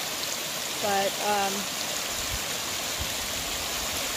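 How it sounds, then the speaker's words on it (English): A swollen forest creek rushes steadily in the Wenatchee National Forest, a dense continuous hiss of flowing water up close, briefly under a voice. "I saw this creek"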